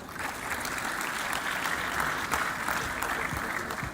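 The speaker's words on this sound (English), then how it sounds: "Please clap for her, she comes up." An audience at a corporate engineering summit applauds as a speaker walks up to the stage, a dense, sustained patter of many hands clapping at steady volume.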